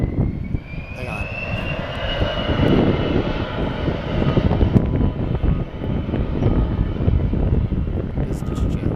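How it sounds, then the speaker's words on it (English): A business jet roars past at SFO airport on a late afternoon, its engine whine rising in pitch and swelling into a loud, steady rumble with wind buffeting the microphone. "Business jet."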